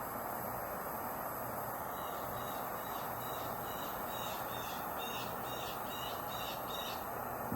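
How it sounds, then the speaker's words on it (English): Noisy birds calling again and again in a steady rhythm over a constant loud rumbling background, with no talking. "Noisy birds, noisy dogs."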